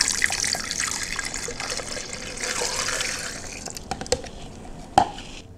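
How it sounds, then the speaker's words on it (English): Apple cider vinegar poured into a bowl, a steady close liquid trickle that thins out toward the end and finishes with a few drips and a light knock, with no talking. "what we want to do now is add 2 cups of apple cider vinegar"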